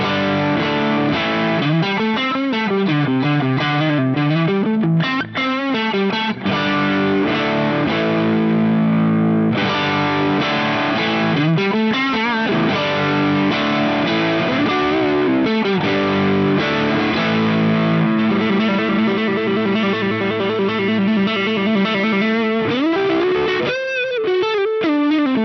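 A distorted electric guitar plays sustained notes and chords through a gritty overdrive with asymmetric diode clipping, thick and compressed, steady loudness throughout with no voices.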